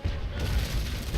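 Ship cannons firing in the naval battle game Naval Action, a deep rumbling boom of broadside fire rolling on for about a second, loud and low.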